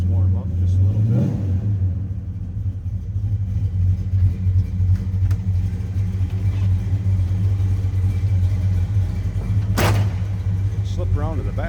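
Idling 1970 Plymouth Road Runner with its numbers-matching 383 V8 warming up, a loud steady low rumble with a faint swell in revs, while someone talks over it.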